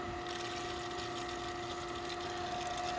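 An Intex Summer Wave sand filter pump for an 18'x52" pool runs with a steady, loud motor hum and a constant tonal whine, with water rushing through the piping throughout.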